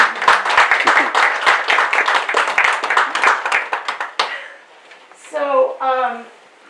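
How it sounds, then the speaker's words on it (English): Audience at an honor society induction ceremony breaks into dense, steady applause for about four seconds, then it cuts off and a voice speaks alone. "give yourselves a round of applause."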